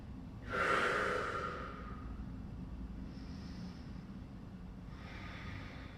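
A single deep breath during a power yoga session aimed at abs and shoulders, taken while lying face down with the cheek or forehead on the floor: a loud, drawn-out nasal inhale-exhale up close, followed by quieter, fainter breaths.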